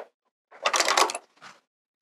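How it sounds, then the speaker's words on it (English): Sewing machine backstitching a seam on a cork wrist pouch: a short burst of mechanical stitching, then a brief second pulse after a pause, close and fairly loud with no talking. "And then this corner down here, you're gonna backstitch."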